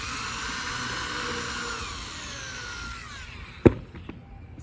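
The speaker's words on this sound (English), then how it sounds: "I'm going to pre-drill my hole" Power drill pre-drilling a hole in cheap, temperamental wood; a steady whirring grind for about three seconds that winds down, followed by a sharp knock and a few small clicks.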